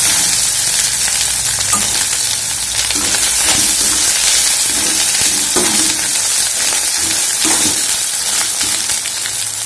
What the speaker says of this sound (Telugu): అల్లం వెల్లుల్లి మగ్గింది కదండి